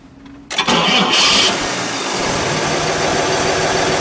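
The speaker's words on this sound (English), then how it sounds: "Let's start it up, shall we? And we'll just let it idle." A 1953 Chevrolet Corvette starts with a sharp, loud crank and catch about half a second in, then settles into a steady, smooth idle heard up close with no talking.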